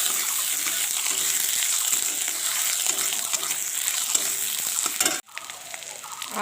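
Ginger-garlic paste sizzles and fries in a pan with steady stirring scrapes, a continuous close hiss that cuts off abruptly near the end before resuming more quietly.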